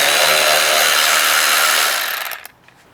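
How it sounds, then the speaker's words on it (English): A power tool fitted with a T30 socket runs continuously at close range, removing the small step bolts on a Lexus LX 570's wheel wells, then winds down and stops near the end. "So a T30 socket to remove the small step bolts on the wheel wells."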